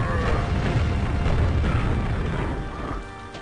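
A grenade blast in the 1996 shooter Quake, heard as a loud, dense boom that holds near peak for about two and a half seconds and then tails off into a rumbling decay.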